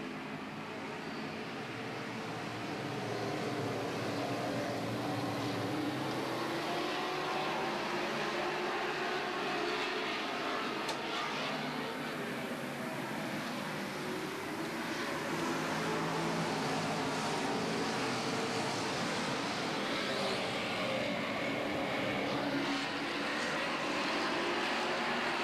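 Race cars accelerate together on a green flag restart at Grundy County Speedway in Morris, Illinois, a broad, steady engine roar that swells at a distance and holds loud throughout.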